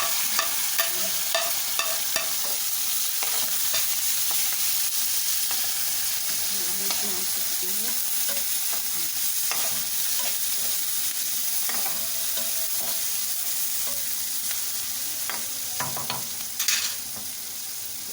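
Onions, tomatoes and green chilies fry in hot oil for chana dal, giving a steady, close sizzle with occasional stirring scrapes throughout and no talking.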